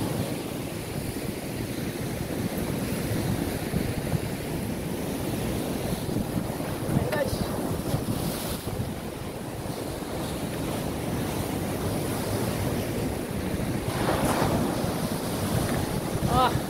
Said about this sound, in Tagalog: Wow, wow, wow. Alon, guys. Grabe.